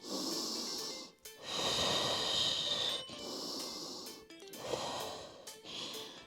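Slow, deep breaths in a child's pose stretch during a Pilates-HIIT cool-down, several long airy inhales and exhales close to the mic, with nasal snort-like edges and no talking.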